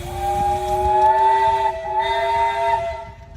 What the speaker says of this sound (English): Ron, you got a whistle?